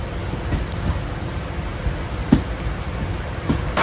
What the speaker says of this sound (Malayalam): ഇവിടെ വന്നപ്പോഴേക്കും നല്ല പൊരിഞ്ഞ മഴ, ഈ ഇടിച്ചൂതി മഴ പെയ്യുക